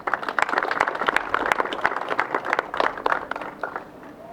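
Audience clapping at an outdoor political rally for People Power Movement leaders, a dense run of many hands beating quickly and steadily, close and fairly loud, thinning out slightly near the end.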